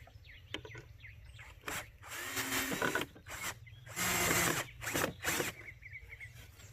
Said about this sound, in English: Now I'm going to add some screws to the top of this board and the bottom of this board.